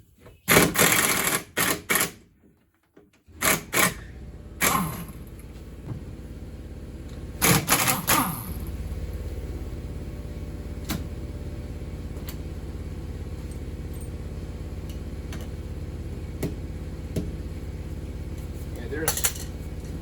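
A socket ratchet works the rear shock absorber bolts on a 1951 Hudson, giving several bursts of rapid close clicking in the first half before a steady low hum takes over, with faint ticks later.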